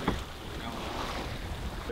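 Steady wind rushes around a racing sailing yacht at sea during the Korea Cup near Dokdo, a continuous broadband roar with water noise and no voices.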